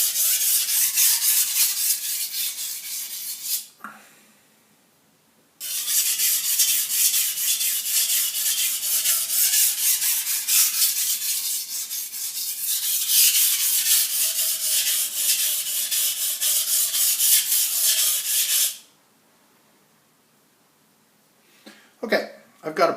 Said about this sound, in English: So I'll just sharpen a little more here.